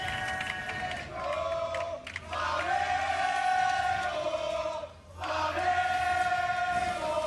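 A large arena crowd at the 2019 League of Legends World Championship play-in roars and chants, its sustained cheering and yelling filling the space, briefly dipping twice before surging again.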